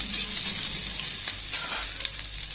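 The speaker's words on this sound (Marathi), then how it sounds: "कांदा असा ना ट्रान्सपरंट होईपर्यंत भाजून घ्यायचा छानपैकी असं हाय फ्लेमवरती." Onion fries on a high flame, a steady close hiss with faint crackles and a few light spatula scrapes.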